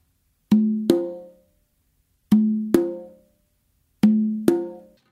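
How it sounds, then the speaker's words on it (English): Three pairs of open conga tones on a three-conga cumbia setup, left hand on the left drum then right hand on the conga, each pair ringing out clearly and alone with pauses between. "I'm going to do an open with my left hand on my left drum and then an open with my right on the"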